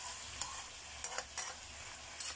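Tempeh being stir-fried in a pan with petai and green chilies, a faint continuous sizzle with a few soft scraping clicks from stirring, heard alone.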